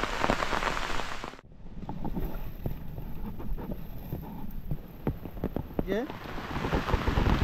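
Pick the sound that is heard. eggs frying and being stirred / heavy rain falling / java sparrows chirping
heavy rain falling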